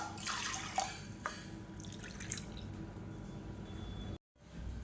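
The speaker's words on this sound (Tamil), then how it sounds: "அதே கப்பில் அதில் ஒரு அஞ்சு கப் அளவுக்கு தண்ணி சேர்த்துக்கலாம்" Water being added to a pot for pongal, soft splashing and dripping pours with a few brief splashes, faint and close, with no talk.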